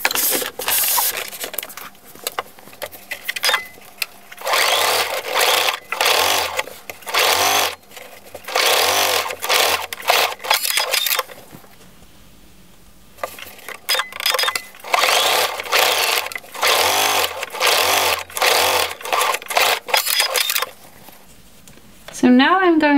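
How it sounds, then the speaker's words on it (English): A sewing machine runs a straight stitch just below the ribbing on the pocket of an oversized raglan top, in repeated bursts with short pauses and a longer quiet stretch midway, fairly loud and close. "Now I'm going to sew a straight stitch slightly below the ribbing in the pocket."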